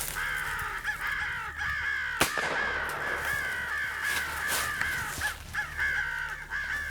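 Crows cawing during a public land crow hunt, repeated harsh caws from several birds in varying rhythm, some near and some farther off, with a sharp bang partway through and no talking.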